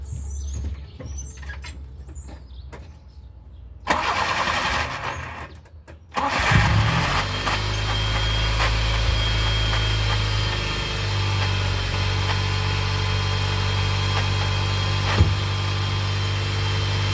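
A car engine cranks and fires up after its starter motor has been reinstalled, with a short clatter before it catches and then a steady, loud idle that runs on.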